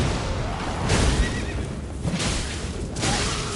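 A horse neighs and whinnies in the Elden Ring video game, loud and close against a steady rumbling game ambience, with a couple of bursts swelling through the clip.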